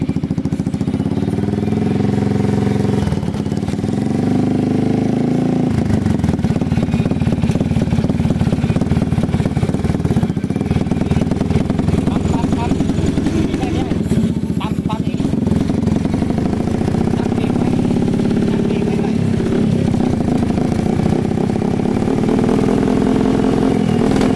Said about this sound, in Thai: มาดูยามาฮ่า X m a ร้อย เสียงท่อดังเกินไปไอ้นี่ท่อเป็นคอไทเทเนียม